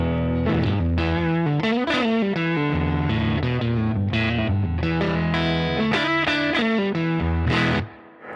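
A small Fender guitar amp turned up to volume 7 breaks up into overdriven, distorted tone, with sustained chords and picked notes ringing loud and continuous before cutting off near the end.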